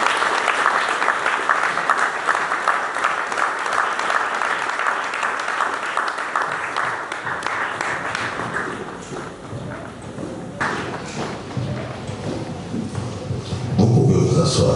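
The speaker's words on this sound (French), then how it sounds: "Est-ce qu'on peut acclamer le Seigneur?" A church congregation claps steadily and acclaims the Lord, a dense, sustained wash of applause that thins out near the end as a voice comes in.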